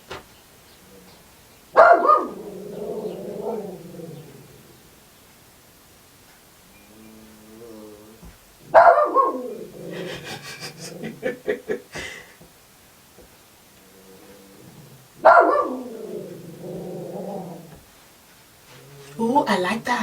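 A dog named Jackson growls and barks in three loud, close bursts separated by quiet stretches, with someone speaking briefly in between.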